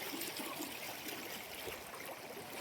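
Fast-flowing stream water rushing steadily, a dense continuous gurgling wash close by, heard alone with no voices.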